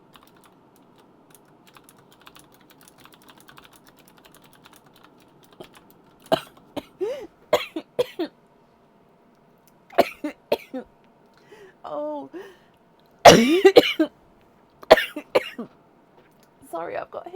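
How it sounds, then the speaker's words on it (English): A woman with hiccups coughs several times in short bursts, with a few small hiccup-like catches, near and fairly loud amid quiet keyboard tapping and a brief spoken exclamation. "I hiccuped at the same time as I don't know, and it made me cough"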